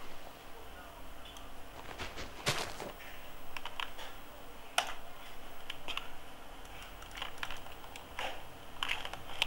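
Typing on a computer keyboard while building in Minecraft with the WorldEdit tool: a light, irregular patter of key clicks with a few sharper taps, close and moderately loud over faint room noise.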